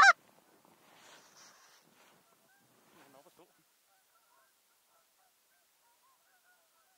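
Canada geese honk in scattered calls during a goose bowhunt in Denmark, a sharp close sound at first, then fainter intermittent honks and a soft voice against near silence.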